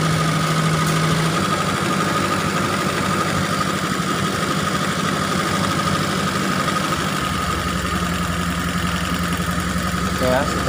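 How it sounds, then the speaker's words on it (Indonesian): Toyota T120SS fuel-injected car engine idling steadily after a repair, a close, continuous low rumble with no revving. "kita tes ternyata normal mesin"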